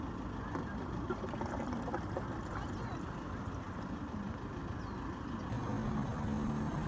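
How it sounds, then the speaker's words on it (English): Liqui Moly diesel common rail additive poured from its bottle into a car's diesel fuel tank, a steady gurgling trickle running continuously at moderate level with some outdoor background noise. "pouring additive first to the diesel tank"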